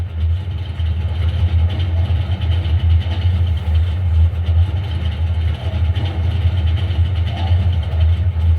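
Race car engines idle on the starting grid at Kansas Motor Speedway in a racing video game, a steady low droning rumble that holds loud and constant throughout with no talking.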